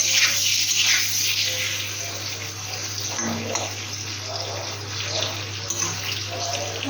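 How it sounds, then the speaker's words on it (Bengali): Eggs fry in oil in a pan for egg curry, giving a steady, close, broadband sizzling hiss that holds evenly throughout with no talk. "আর এখানে ডিমগুলো দিয়েছি ভাজতে"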